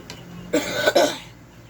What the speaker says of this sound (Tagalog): Ang ubo.